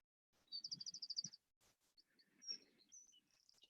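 A bird sings a quick rapid trill of repeated notes, then several birds chirp and whistle in bright, scattered calls in a quiet outdoor space.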